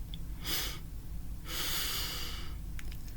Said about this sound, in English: Start by taking 2 sips of breath in